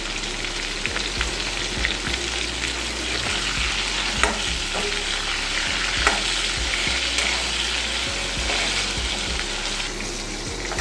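Pointed gourd (potol) frying in oil in a pan for a Bengali potato-and-rui fish curry, a steady dense sizzle and crackle with occasional stirring scrapes, close and continuous, with no voices.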